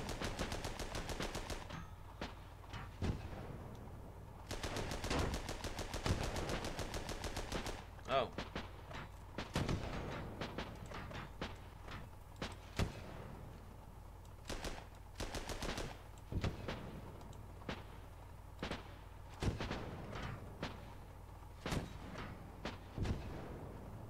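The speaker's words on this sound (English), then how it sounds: "That is a field gun." A field gun fires amid battle in Armoured Battle Crew, heavy reports punctuating a long stretch of rattling machine-gun bursts and scattered shots, loud and repeated throughout.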